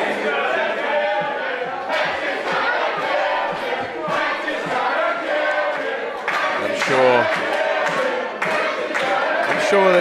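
Crowd noise at a robot combat event, a steady roar of cheering and shouting that fills the whole stretch alongside louder bursts, with a commentator's voice running over it.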